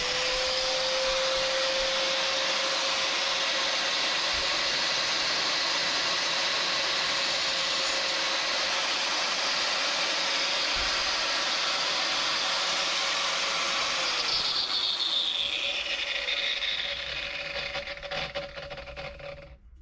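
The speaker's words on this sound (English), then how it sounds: "have no idea how well the grinding wheel or steel parts will cope with tungsten" Grinding wheel cutting through tungsten, a continuous high whining grind with a steady motor tone that keeps going, then winds down and fades near the end.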